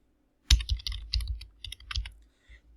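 Quick bursts of typing on a computer keyboard as a stock name is keyed into a charting screen, close and fairly clear, several short runs of keystrokes then a couple of final taps.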